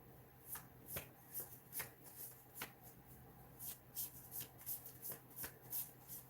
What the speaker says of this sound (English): Sorry, I'm shuffling.